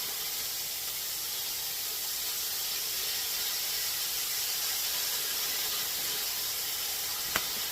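Minced garlic sizzling in a hot pot of gumbo made from scratch, a steady broadband hiss that stays constant throughout with one brief sharp click near the end.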